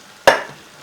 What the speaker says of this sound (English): Now we're just going to stir this in and heat it up real good.